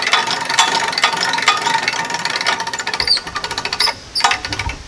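A winch tightens a cable hooked to a log at a sawmill, giving a loud, busy mechanical ratcheting clatter with rapid repeated clicks that speed up toward the end, heard without talk.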